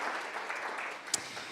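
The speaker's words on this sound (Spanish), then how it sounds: "Fuertes aplausos a Él." Applause in a church congregation, a steady broadband patter of clapping hands throughout with one sharper clap standing out near the end, fairly close and continuous.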